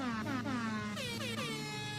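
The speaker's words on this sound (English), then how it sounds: "So the air horns, basically, there's a red one that does lower pitch sound," A deep, low-pitched red air horn in a Roblox game blares continuously, its tone wavering and sliding in pitch over two seconds, loud and close with no talking.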